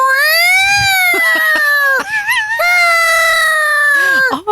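Person imitating a cat crying outside a door in the morning, one long loud wavering meow-like wail that dips and rises, then a second drawn-out cry ending in a quick downward sweep, alone and close.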